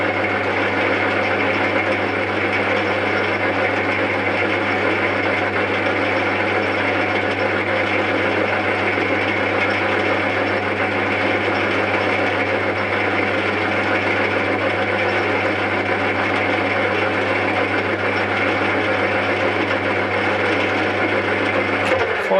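A machine runs at a middle speed of 350 RPM during a tachometer surface-speed wheel test, giving a steady, loud, continuous mechanical hum with a low drone that holds unchanged throughout.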